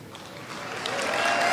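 An audience breaks into applause that swells steadily louder, a dense wash of clapping with no voices over it.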